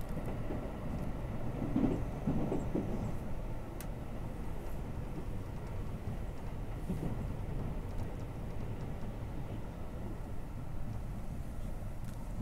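Inside the green car of a Haruka limited express to Kansai Airport, a steady low rail rumble and wheel noise run throughout as the train overtakes a rapid service on the inner track, with no talking.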